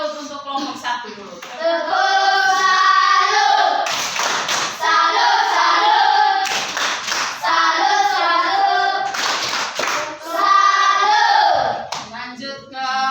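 Group applause and hand clapping for a group of teachers, filling a classroom with dense, steady clapping in several bursts with brief lulls between them.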